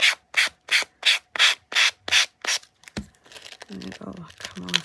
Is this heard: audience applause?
no